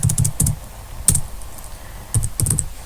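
Code being typed on a computer keyboard: close, crisp key clicks in quick clusters with short pauses between bursts.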